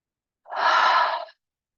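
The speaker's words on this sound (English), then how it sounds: "in through the nose, out through the mouth" A single soft breath of about one second, breathy and airy, rises and fades in an otherwise quiet space, alone and close to the microphone.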